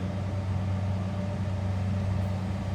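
A 1964 Oldsmobile Jetstar 88 Celebrity Sedan cruising with its engine running smoothly, a steady low hum and drone heard from inside the car, constant and even with no other sounds.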